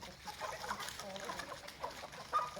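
Several adult chickens cluck in a steady, overlapping chatter close by at a backyard flock near a forest, short clucks and murmurs continuing throughout with no pauses.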